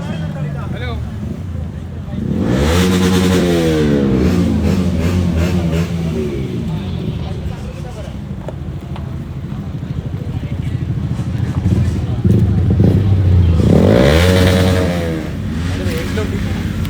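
A vehicle engine revs hard as it enters an outdoor auto show in Chemmad, with two rising roars over a steady crowd murmur and voices throughout.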